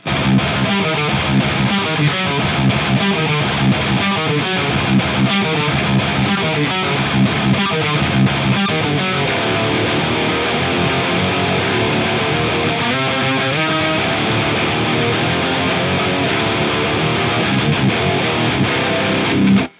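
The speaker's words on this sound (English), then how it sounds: "it does diminish the value of an otherwise pretty nice distortion pedal like this" A continuous, loud distorted electric guitar plays dense chugging riffs through a Pedal Pimps Nibiru distortion pedal with a thick, saturated tone, running steadily without any talking.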